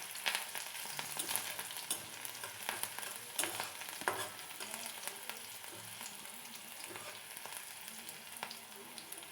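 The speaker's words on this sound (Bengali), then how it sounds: "রসুন এবং কুচনো কাঁচা লঙ্কা ভালো করে ভেজে নিয়ে এর মধ্যে দিয়ে দেবো পেঁয়াজ।" Garlic and chopped green chilli sizzle and crackle steadily in hot oil in a pan while being stirred for Maggi noodles, a close, continuous frying sound with no one talking.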